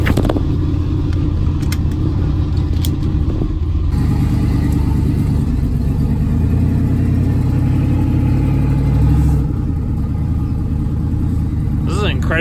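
A car engine rumbling steadily while driving, close and loud, with a voice speaking over it.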